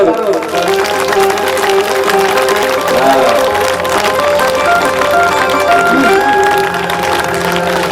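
Rhythmic audience clapping fills a devotional Bhagavat Katha gathering in Bhatmau village, steady and fairly loud throughout, mixed with music and singing voices.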